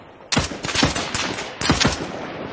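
Automatic and rifle gunfire in the military shooter ArmA 3 on the Altis map, sharp loud bursts of rapid shots in two clusters separated by a pause, close and echoing.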